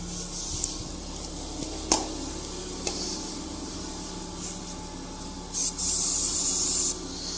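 An aerosol of alcohol petrol system cleaner is sprayed during work on a Zontes G1 125cc motorcycle: after a few faint clicks, a short hissing burst is followed by a longer steady spray of about a second near the end.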